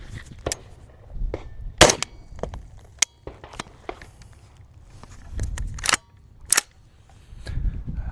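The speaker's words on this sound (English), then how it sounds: "we are gonna put 3 shots down range" Unsuppressed 5.56 rifle fired outdoors during a suppressor comparison, with several sharp, loud broadband cracks spread irregularly across the stretch amid lighter handling noises and rustling, no talk.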